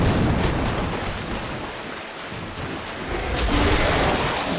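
A loud, dense roar of rain and rumbling thunder fills the scene during a dragon boss fight in Dark Souls, swelling and easing with a deep low rumble, steady and close, with no speech.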